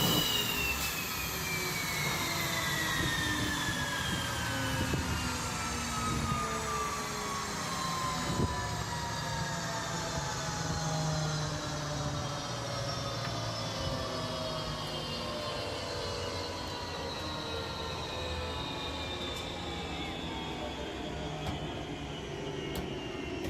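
Twin engines of a MiG-29 fighter jet running on the ground at an airshow, a loud sustained turbine whine with slowly falling tones as the engines spool down, steady and close with no talk.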